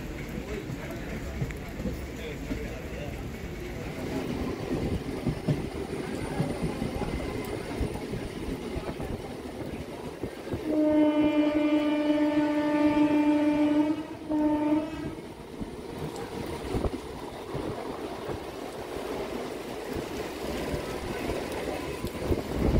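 A Howrah–Barddhaman fast MEMU local train runs at night in rain past Bandel, a steady loud rolling rumble and rattle with a long horn blast partway through, while someone speaks over it.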